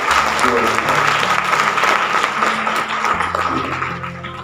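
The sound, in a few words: audience clapping for felicitated students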